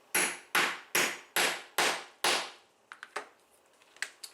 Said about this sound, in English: And then we're going to hammer a few times,